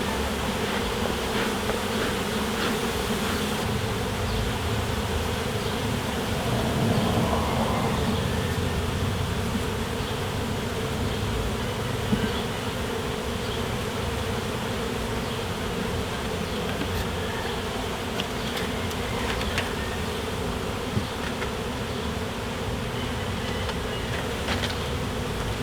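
Honeybees buzz steadily around an open beehive during a June hive inspection, a dense, continuous drone of many insects close by with no voices.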